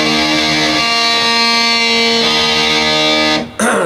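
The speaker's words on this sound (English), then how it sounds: "There's an overdubbed guitar here." Two overdubbed distorted electric guitar tracks blended together in a song part, a dense sustained wall of chords held loud and close, cut off abruptly near the end.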